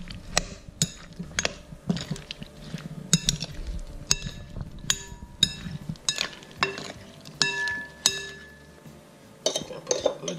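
A spoon clinks and scrapes in a bowl as a salad is tossed with fresh mint and olive oil, a series of sharp, irregular clinks and clatters, fairly close, with no talking.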